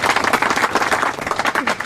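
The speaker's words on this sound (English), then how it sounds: "Let's give them another round of applause." Concert crowd applauding, a dense, steady wash of clapping and cheering that fills the whole short stretch at close range.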